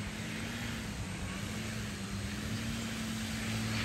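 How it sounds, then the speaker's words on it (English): A radio-controlled model airplane taxis at high speed at an RC fly-in, a steady continuous engine drone with a constant tone, moderately loud and unbroken, with no talk. "There's some high speed taxiing, that's fun."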